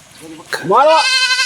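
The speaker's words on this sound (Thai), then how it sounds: "ตอนนี้ผมได้ยินเสียงแพะร้องครับ" A goat bleats loudly and close by in a village, a long quavering call that follows a short burst of noise.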